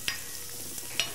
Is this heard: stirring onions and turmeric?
yes